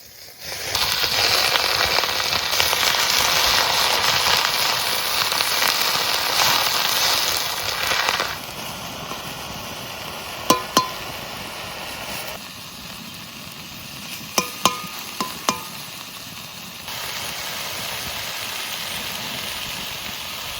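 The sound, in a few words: leafy greens frying in pan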